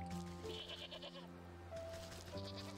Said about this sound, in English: I think she's supposed to be a sheep.